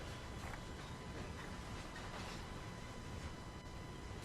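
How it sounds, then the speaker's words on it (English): A train in the Train Sim World video game rolls steadily along the tracks as it leaves a rail yard, giving a continuous, even rumble with faint rhythmic clatter and no voices. "I just gotta wait for the entire train to leave the yard."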